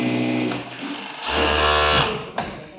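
An overlock machine stitches and trims the edge of a garment close by, its steady motor whir rising in pitch and loudness midway before easing off, with a short click near the end.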